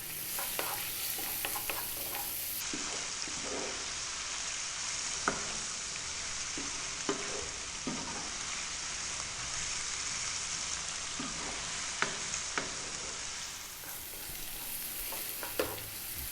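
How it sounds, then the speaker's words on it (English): Chopped garlic with salt and black pepper frying over high heat in a pan, a steady close sizzle with scattered spoon-stirring scrapes and clicks throughout, no voices. "the chopped garlic, salt, black pepper, and we're going to cook this for 3 minutes"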